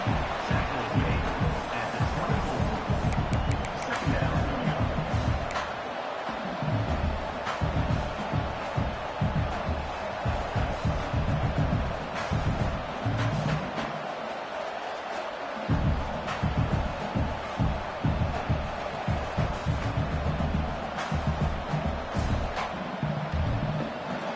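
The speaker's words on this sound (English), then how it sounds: "Listen to the crowd energy here in the early going." A large crowd at an Oregon football game roars steadily throughout, a dense wash of cheering and shouting with brief swells, like a packed stadium.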